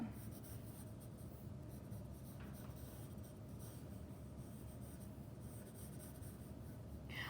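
A pencil sketches lightly on paper, giving a faint, steady scratching and rubbing that runs continuously and close without pauses.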